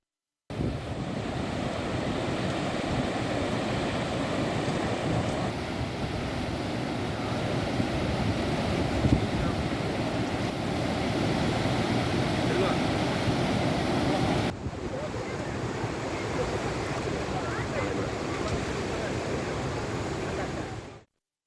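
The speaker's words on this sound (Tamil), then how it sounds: "முதன்மை மதகுகள் வழியாக உபரி நீர் வெளியேற்றப்படுகிறது" Surplus water pours out through the main sluice gates of the Amaravathi dam, a steady, loud broadband roar of rushing water that continues unbroken throughout, with no voices over it.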